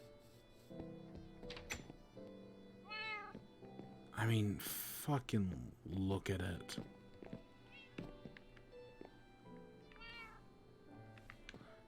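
Cats meow in Animal Crossing: New Horizons, several repeated mewing calls at moderate volume mixed with game sounds, while a person talks over them.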